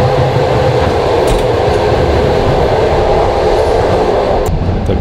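Inside a moving passenger train, a loud steady rumble of wheels and carriage noise fills the space, with faint clacks and no talk.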